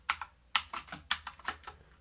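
Close computer keyboard typing while writing code, a quick run of about eight crisp keystrokes in uneven rhythm, fairly soft and with no talking.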